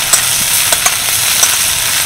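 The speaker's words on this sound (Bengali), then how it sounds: "এই সমস্ত উপকরণগুলো হালকা করে ভেজে নেব।" Chopped onion and green chilli fry in hot oil for a kachori filling, a loud, constant close sizzle with a few small pops and light stirring clicks.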